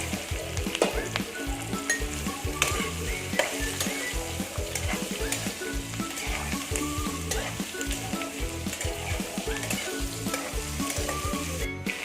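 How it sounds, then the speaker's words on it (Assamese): Potatoes fry in hot oil with onions already browned in the pan, producing a dense, even, close sizzle with continual stirring throughout. "এতিয়া মই আলুকেইটা ভাজি ল'ম।"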